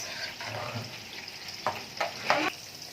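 Food frying in a pan with a soft sizzle, while a utensil scrapes and stirs it in a few brief bursts.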